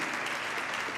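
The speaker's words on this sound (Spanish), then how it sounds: "¿Cuánto le dan un precioso aplauso a la palabra de Dios?" Brief burst of dense applause from a church congregation, many hands clapping at once, steady and fairly loud.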